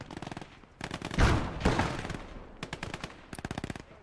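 Tank machine gun rattling at infantry in the WWII game Gates of Hell: Ostfront, rapid repeated bursts of automatic fire with a heavier blast mixed in, loud and close.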